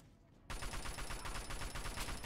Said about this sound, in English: Let's test out this new assault rifle.